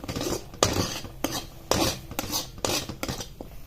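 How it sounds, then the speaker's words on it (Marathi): Carrot halwa is scraped from a pan onto a plate, with a run of close metallic scrapes and clinks from a spoon against cookware in short bursts and nobody talking. "हा एका प्लेटमध्ये काढून घेते आणि थंड करायला ठेवते"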